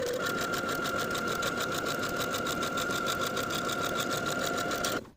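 Close, loud sewing machine stitching a casing across a puff sleeve for a shirred top, a continuous rapid mechanical hum that runs for about five seconds before cutting off abruptly.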